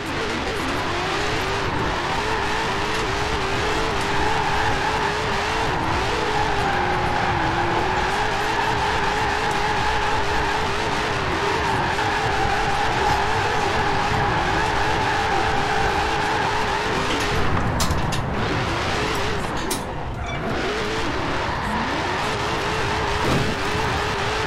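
An 1100 hp Dodge Demon drifts in Forza Horizon 4, its engine droning at a sustained high pitch while the tires squeal and skid continuously, with a brief wavering dip in the sound partway through.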